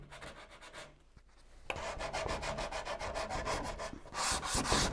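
Sanding by hand along the edges of milk-painted wooden furniture to distress it, a quick back-and-forth rubbing rasp in steady strokes, close, with a brief pause before resuming.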